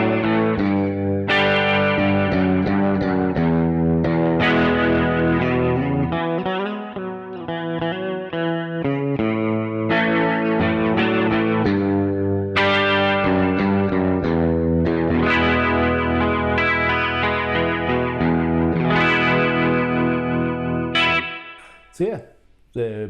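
An electric guitar played through the rotary effect of a Keeley Supermod Workstation pedal rings out in sustained, swirling chords and notes that carry loudly throughout before dropping away at the end.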